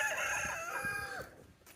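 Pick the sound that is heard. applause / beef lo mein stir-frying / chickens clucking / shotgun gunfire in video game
chickens clucking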